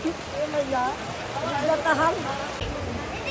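Steady rain hisses through an outdoor crowd at Baidyanath Dham, with wet patter running under several people talking the whole time.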